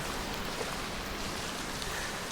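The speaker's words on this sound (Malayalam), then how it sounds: "എൻ്റെ വണ്ടി തിരിച്ചിട്ടിരിക്കാം മഴ വരുന്നുണ്ട്" Rain falling outdoors, a soft, steady, even hiss with no distinct drops standing out, quiet and constant throughout with no talking.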